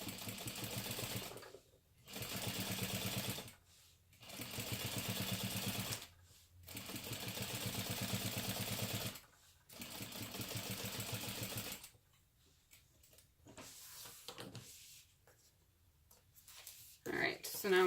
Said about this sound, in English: now we have top stitched along each side of the zipper.